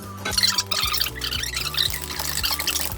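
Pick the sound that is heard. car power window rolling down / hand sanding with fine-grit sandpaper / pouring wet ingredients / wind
pouring wet ingredients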